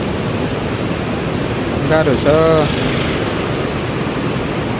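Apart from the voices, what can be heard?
rising river rushing, Uma Ghatte Khola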